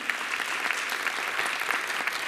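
A crowd applauds loudly and steadily for a little girl called up onto the stage at a Haryana state dance competition, with the clapping dense and continuous throughout.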